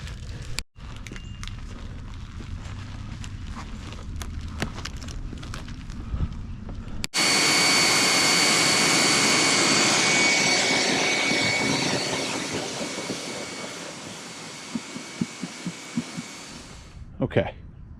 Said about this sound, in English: And now we're gonna wash the bike.